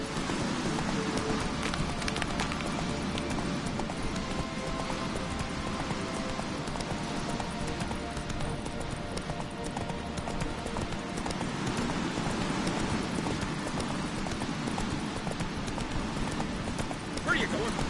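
Roach the horse trots along in The Witcher: Wild Hunt, rhythmic hoof clip-clops over a steady bed of rain and game ambience, with a voice talking over parts of it.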